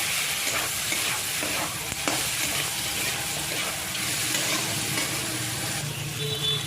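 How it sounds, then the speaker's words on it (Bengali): Catla fish heads fry loudly in a pan of hot oil for a moong dal dish, a dense continuous sizzle and spatter with occasional stirring knocks, close and unbroken throughout. "দেখো মাছের মাথাগুলো দিয়ে ভাজা করে নেব।"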